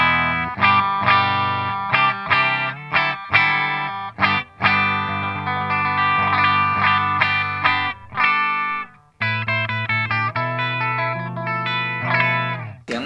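Electric guitar played through a Line 6 POD HD500X modelling a 1965 Fender Twin Reverb amp: bright, chiming chords and arpeggiated notes with chorus-like shimmer and reverb, played alone without talking.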